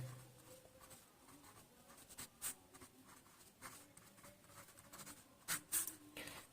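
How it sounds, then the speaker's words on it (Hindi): Pen writing a definition on paper for a chemistry lesson, heard as faint, close scratchy strokes and taps in irregular bursts with no speech over them. "चलिए, लिखेंगे परिभाषा।"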